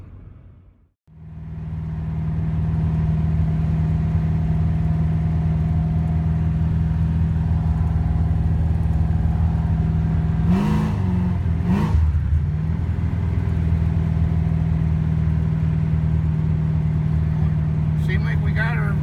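A 1981 Monte Carlo with a 355 small-block engine cruising on a test drive, a steady low droning hum from inside the car with brief fluctuations, while people talk over it.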